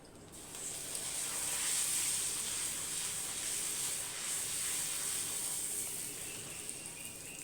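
Puris frying in hot oil, a steady bright sizzling hiss that holds at a constant level throughout, close and alone with no talk.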